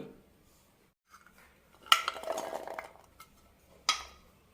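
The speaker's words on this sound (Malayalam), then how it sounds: "പന്ത്രണ്ട് ചെറിയ ഉള്ളി അഞ്ച് വെളുത്തുള്ളി രണ്ട് ചെറിയ പീസ് ഇഞ്ചി ഇത് ചതച്ചെടുക്കാം" Shallots, garlic and ginger are crushed, heard as a few faint knocks followed by a short louder grinding, crunching burst and one final sharp knock, close and otherwise quiet.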